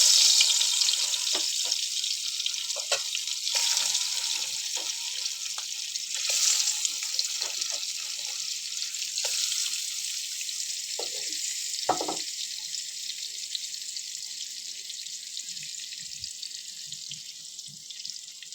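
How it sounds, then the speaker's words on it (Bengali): Hilsa fish frying in hot oil in a home kitchen, a steady bright sizzling hiss that runs the whole time, with a few faint clinks and no talking. "এবারে তেলের মধ্যে মাছটা ভেজে নেব।"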